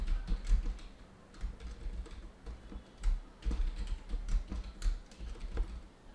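Someone types a new password on a computer keyboard: quiet, irregular key clicks in short bursts, close up with no voices.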